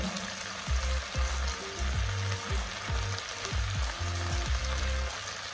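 Chili powder, garam masala, coriander powder and turmeric sizzle in a hot pan for a masala khichdi while a spoon stirs them, scraping in a steady repeated rhythm. The sound is close and continuous, and no one speaks.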